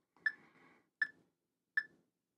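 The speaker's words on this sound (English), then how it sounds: "slow our metronome down a little bit to 80" An electronic metronome beeping at 80 beats per minute, three clean, sharp clicks evenly spaced and heard alone, with a short ringing tail after each.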